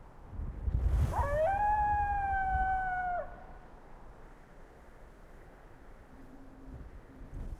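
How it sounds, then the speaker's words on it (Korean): A single long, tonal howl from an injured wolf calling its pack in a video game. It rises, holds steady for about two seconds, then drops off over a rumbling low background that continues after it fades. "부상당한 늑대가 동료들을 부르고 있어."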